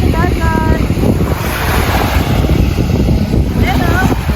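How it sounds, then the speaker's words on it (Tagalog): Sea waves washing on a shore with strong wind buffeting the microphone, a steady loud roar throughout, and brief snatches of voices in the background. "dito ako sa dagat"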